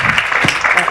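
A brief, loud burst of audience clapping at a talk on twice-exceptional giftedness, a dense continuous patter lasting about a second with a faint voice underneath.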